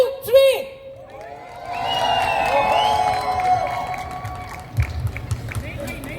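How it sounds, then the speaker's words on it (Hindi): A crowd at a press conference for Mika Singh's Swayamvar show hoots and cheers, with sustained whistling and yelling that swells and then tapers into scattered claps, with voices calling out throughout. "दोस्तों एक बार जो हूटिंग हमने इनके एंट्री से पहले की थी, फिर से हो जाए ऑन द काउंट ऑफ 3"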